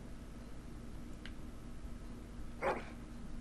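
A single short dog bark rings out in the Dragon Age video game, brief and fairly clear against a steady low background hum, with a faint, softer yelp just before it.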